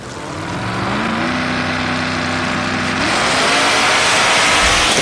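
Drag racing cars, Sinestro's Firebird against Cash Money Boys, roaring loud and close with a steady rising engine drone that climbs in pitch and builds to a sustained full-throttle blare.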